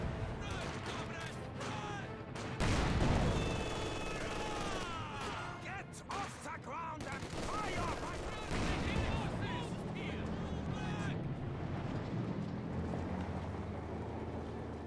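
In the video game Company of Heroes, a Panzer IV tank cannon fires amid scattered gunfire and battle explosions, a dense, continuous din with someone commentator talking over it.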